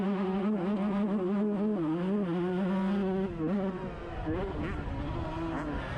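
Old 125cc two-stroke motocross bikes racing on a track, their high buzzing engines wailing and shifting pitch together through a corner, loud and fairly close with a commentator talking over them.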